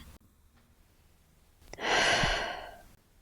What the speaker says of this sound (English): I invite us to pause and take a deep breath